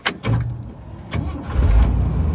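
A 1986 Jeep CJ7 Renegade with its original 4.2L engine cranks briefly and fires right up, settling into a loud, close rumbling idle within about two seconds.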